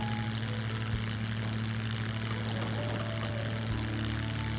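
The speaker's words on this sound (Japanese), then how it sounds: "飛行機に乗りながら" Propeller airplane engine in the survival video game SCUM, a steady droning hum with strong low tonal bands held throughout, loud and continuous with no talk over it.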